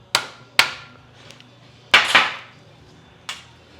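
Five sharp metallic hammer strikes on a transfer punch dimpling metal, irregularly spaced, each ringing briefly; two come in quick succession near the middle, close and loud.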